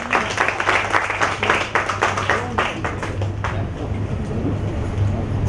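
Applause from the audience at a Tamil debate stage event, thick and steady for a few seconds before fading into a low background hum with faint murmuring.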